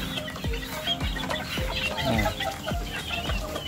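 Young roosters (stags) and pullets cluck nearby, giving a series of short, sharp clucks spaced about half a second apart over a soft outdoor background.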